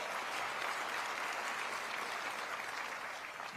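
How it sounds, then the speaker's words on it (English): Dense, even audience applause fills a room at a tourism industry luncheon, a continuous wash of many hands clapping at steady loudness without talk. "go ahead and applaud"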